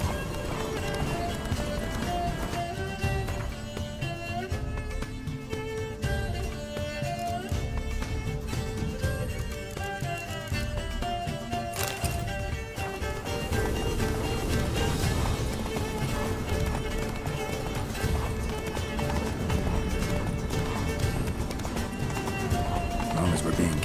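Rhythmic clip-clop of a horse galloping in The Witcher 3, steady and close throughout, with a dense bed of game music and voices talking over it.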